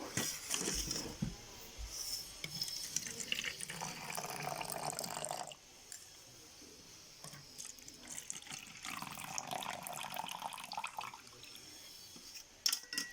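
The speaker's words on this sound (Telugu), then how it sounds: "వాటర్ను వేసేసుకుంటున్నాను." Water poured into a beetroot and sugar mixture for homemade ice gola, a steady splashing pour near and clear, shifting pitch as the container fills, with a brief lull midway.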